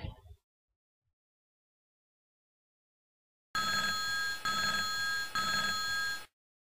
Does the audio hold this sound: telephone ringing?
yes